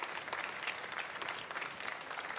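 Steady, dense applause from a conference audience at an industry trade fair stage, welcoming an incoming ceramics company CEO; even, moderately loud clapping throughout with no talking.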